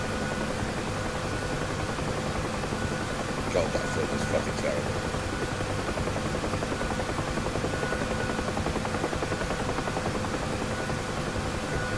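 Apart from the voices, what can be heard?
helicopter rotor and engine in the video game DCS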